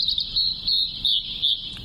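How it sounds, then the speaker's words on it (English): An unidentified songbird sings a high, thin phrase that repeats about four times in close succession, clear and fairly near over faint low background rumble. "There's that mystery bird."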